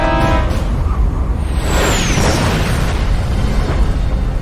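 A 1,700-pound armor-piercing shell explodes inside the British battleship HMS Hood, heard as a loud, sustained rumbling boom that fills the whole stretch, with a brief descending whistle early on.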